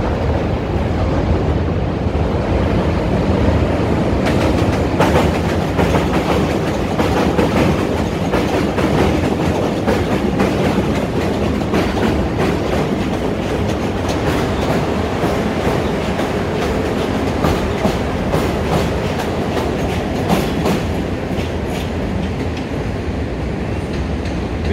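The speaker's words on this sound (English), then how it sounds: "you got another train coming" A train in downtown Chicago rolls by close and loud for a long stretch, its wheels giving a steady rumbling clatter with rhythmic clicks over the tracks.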